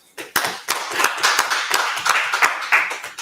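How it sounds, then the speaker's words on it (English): Group clapping in a steady, sharp rhythm of separate hand claps, fairly close and dry. No speech over it, about three seconds. "All right, clap it up."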